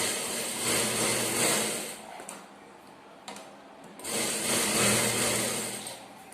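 A sewing machine stitches a blouse seam in two runs of steady, close whirring separated by a short quieter pause with a couple of clicks. The motor hum is fairly loud and even, with no talking.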